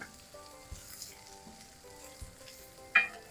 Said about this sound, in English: we're going to cook this on kind of like medium to medium-high heat until things start to brown